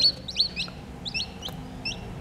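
Newly hatched chicks in an egg incubator, a series of high-pitched peeping chirps in quick irregular bursts over a low steady machine hum.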